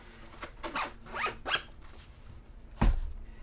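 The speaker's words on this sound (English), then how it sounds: "So that all zips up nicely." A zipper is drawn along a bag used for remote-work gear in several short, scratchy pulls, close and clear, ending with a soft thump.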